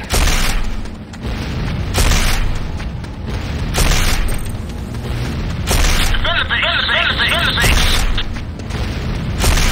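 Explosion of a GDI Tiberium Refinery in the video game C&C Renegade: loud booming blasts and bursts recur throughout, layered over continuous game noise, with a synthetic announcer voice speaking.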